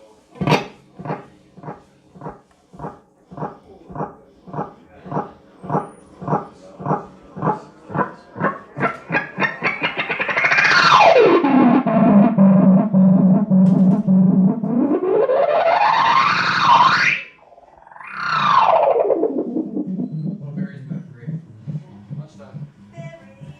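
Repeating guitar notes from a breaking-up analog delay pedal (Carbon Copy) echo in a rapid pulse that speeds up into a continuous squealing feedback tone. The pitch sweeps down, climbs back up, cuts out briefly, then returns and falls.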